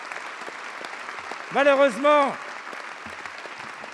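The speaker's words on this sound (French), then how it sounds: "et qui méritent nos applaudissements." Applause fills the French National Assembly chamber as someone speaks clearly over it in French, the clapping a steady, dense wash running under his voice from start to finish.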